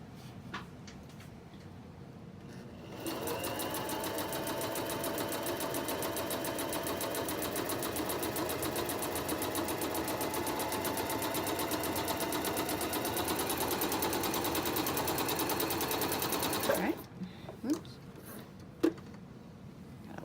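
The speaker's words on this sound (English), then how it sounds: "So I'll just put a couple stitches in here." A sewing machine stitches a quarter-inch seam through foam, running in one long, steady, rapid whirring burst at close range, then stopping; a few clicks and handling sounds follow.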